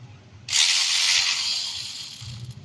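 A socket ratchet works a 14 mm bracket nut on a 1997–2004 Ford F-150 with the 4.6L Triton V8, giving a steady, close-up buzzing clicking of the pawl that runs continuously for about two seconds.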